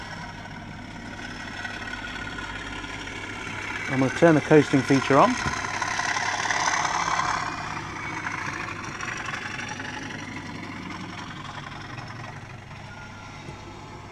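Bachmann Class 37 model diesel locomotive in Europhoenix livery with sound fitted, running with a steady idling engine drone throughout, a short burst of horn-like tones in the middle, and someone speaking over it.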